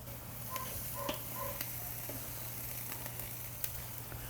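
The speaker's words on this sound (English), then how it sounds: "we're gonna put these right on the fire. just to give them a little sear." Picanha steak searing over a live fire grill, giving a quiet steady sizzle with scattered small ticks and pops and no one talking.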